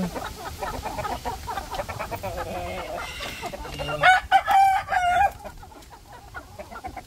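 Hens cluck and murmur close by in a crowded coop, then a rooster crows loudly partway through, with soft clucking continuing after.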